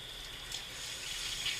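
Water runs steadily from a tap while rinsing a plucked duck, a constant close splashing hiss with a few brief surges, no talking.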